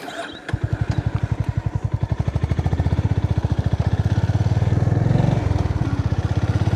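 A motorcycle on a road trip toward Tulsishyam through the Gir Jungle area of Gujarat, its engine droning loud and steady throughout, rising slightly in pitch as it rides on.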